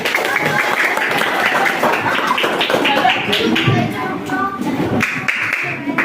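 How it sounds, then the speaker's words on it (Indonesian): Classroom applause for a student named Jaki, a steady busy patter of many hands clapping at close range, with children's voices mixed in throughout. "Boleh terus tepuk tangan buat Jaki"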